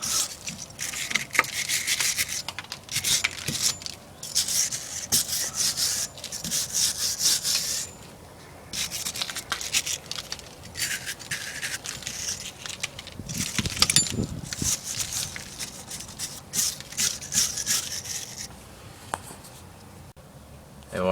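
Brushing off BMW E36 emergency brake parts makes a steady, close scratchy scrubbing with bristles rasping in quick repeated strokes, a few brief pauses between bursts, and no talking over it.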